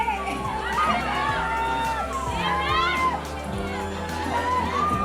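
A crowd of fans squeals and shrieks at a celebrity appearance by a cinema. High, excited voices rise and fall in waves, with talking mixed into the noise.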